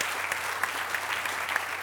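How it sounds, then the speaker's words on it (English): A large audience at the Silver Line grand opening ceremony in Virginia claps for the Secretary, a dense, sustained round of applause with a few sharper claps standing out, steady and fairly loud. "Give the Secretary another great round of applause"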